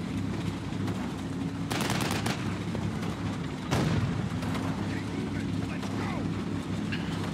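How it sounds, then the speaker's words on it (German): An artillery shell bursts on an open field in a Combat Mission Normandy battle, one of two sharp booming impacts over a continuous low rumble of gunfire, with someone talking throughout. "es schlägt hier eine weitere Granate auf dem Feld ein"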